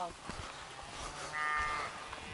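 Cows low somewhere in a rural village with vegetable gardens, a drawn-out moo rising in the middle of the clip, faint and distant over wind and outdoor rumble.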